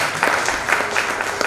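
An audience at an Arawali Organics health event claps in a brief, dense burst of applause, loud and close, with no speech over it.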